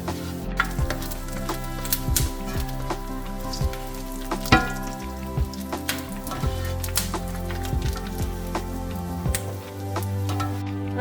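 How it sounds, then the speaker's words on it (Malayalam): Beef frying in a pan on a high flame, a dense close sizzle with crackling pops and spatters over a steady hum, continuing throughout with no talking. "ഏകദേശം ഒരു 4 മിനിറ്റോളം ഹൈ ഫ്ലെയിമിൽ ഫ്രൈ ചെയ്ത് കഴിയുമ്പോഴാണ് ഇതുപോലെ ഒരു ഗോൾഡൻ കളർ കിട്ടുന്നത്."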